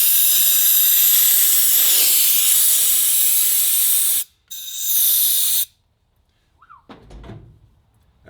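Compressed air hisses loudly in a long steady blast, blowing debris out of a cylinder head exhaust stud hole during stud extraction, then a second shorter burst follows before quiet tool handling.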